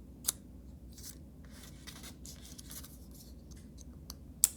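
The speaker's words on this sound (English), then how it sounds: "So I'm adding slits and slots to both the structure and what I'm going to add to it." Scissors snip slits and slots into paper pieces for a stabile sculpture, a few faint, close cuts with soft paper rustling between them and a sharper snip near the end, no talk.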